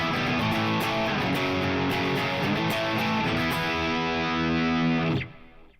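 Electric guitar played through a crunch preset with reverb, a thick distorted sustained chord ringing steadily for about five seconds before cutting off abruptly into a short decaying tail.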